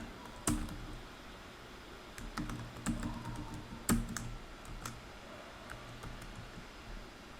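Computer keyboard keys being typed for a password, a sparse series of soft clicks and taps spread unevenly over several seconds, close by and quiet with no speech.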